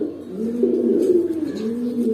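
A pigeon coos up close in low, rolling phrases that repeat twice without any other sound.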